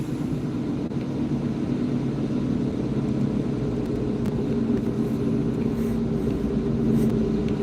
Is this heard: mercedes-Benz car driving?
yes